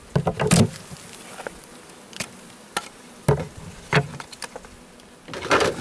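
Honey bees buzzing around honey frames while a beekeeper shakes them off at a hive being packed for winter, with sharp knocks and bursts of louder buzzing over a steady insect hum.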